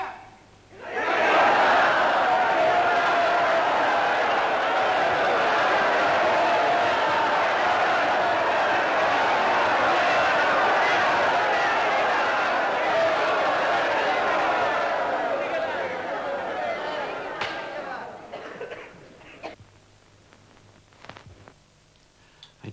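A large crowd of film extras cheers loudly on the set of the 1937 epic 'I, Claudius', a sustained roar of voices that fades out toward the end.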